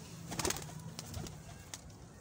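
Pigeons in a flock of twenty-nine from one loft, cooing and calling softly at close range, with brief fluttering bursts and a low murmur of background noise.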